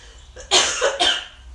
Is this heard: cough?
yes